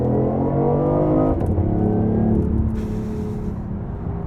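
A BMW i8 hybrid accelerating hard in sport mode, its engine note rising steadily in pitch as it pulls, loud and continuous from close by, briefly dipping around a gear change before climbing again.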